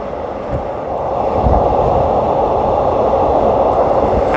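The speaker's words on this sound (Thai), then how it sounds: "สำหรับทางด้านฝั่งขวาเนี่ยเราก็จะสวนกับขบวน รถไฟขาเข้ากรุงเทพ" An inbound train to Bangkok passes close alongside near Don Mueang on a morning ride, a loud sustained rumble and roar of rolling wagons that builds and holds steady throughout.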